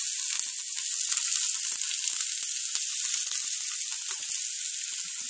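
Chopped onion sizzles steadily in hot olive oil in a pan, a loud, continuous frying hiss with small crackles and pops throughout, no voices.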